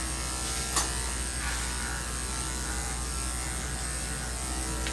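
Electric grooming clippers run steadily on a dog, a constant close buzzing hum with a brief click near the start and no pauses.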